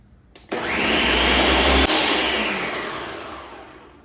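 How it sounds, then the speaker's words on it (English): A blender purees tomatoes for chilled tomato soup, starting abruptly as one loud, steady whirring roar that holds, then gradually softens toward the end, with no talking. "Just blend this till it's nice and smooth."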